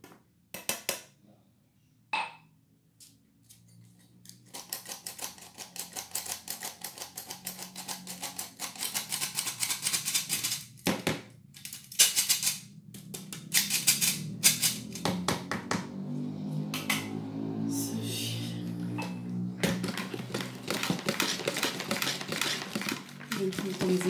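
Batter whisked in a bowl for a quick Moroccan breakfast or snack recipe, a steady run of rapid clinking and scraping strokes that builds after a few quiet seconds and continues close up, with occasional pauses.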